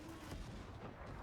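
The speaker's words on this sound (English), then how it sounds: "That's my grenade." A grenade blast in the Warhammer 40K Darktide video game, a dense, rumbling burst of explosive noise filling the short moment amid game action.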